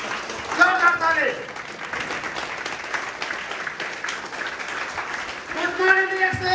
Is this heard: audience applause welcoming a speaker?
yes